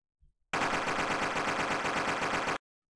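Rapid automatic gunfire from the video game The Real Texas rattles out in one loud, unbroken two-second burst of evenly spaced shots, preceded by a brief soft thump and ending abruptly in silence.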